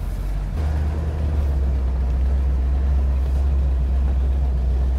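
A 1973 Cadillac Eldorado convertible with a new carburetor drives on a test drive, heard from inside as a steady deep engine rumble and road drone that swells slightly after a brief quieter moment at the start.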